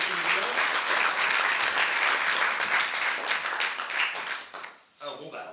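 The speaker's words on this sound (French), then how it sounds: "Applaudissements pour Julie et Elias." Loud, dense applause from a theatre audience for two performers, sustained for several seconds before tapering off sharply, with a few voices audible at the end.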